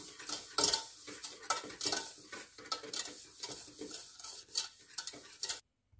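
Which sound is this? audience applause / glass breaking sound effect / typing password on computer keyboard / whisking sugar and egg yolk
whisking sugar and egg yolk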